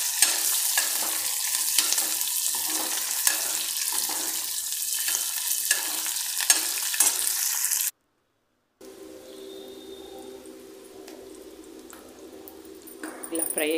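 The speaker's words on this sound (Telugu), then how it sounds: "యాడ్ చేసిన తర్వాత అవి కూడా ఆయిల్లో 2 or 3 మినిట్స్ గోల్డెన్ కలర్ వచ్చేంత వరకు డీప్ ఫ్రై" Onion pieces deep frying in hot oil for a lentil dish with fenugreek seeds give a loud, steady, close sizzle with stirring. It cuts out briefly and returns as a quieter, bubbling fry.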